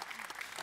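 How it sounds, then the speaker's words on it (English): Brief burst of audience clapping at a fireside chat event at IBTM World, dense and steady for under a second. "you can clap for her."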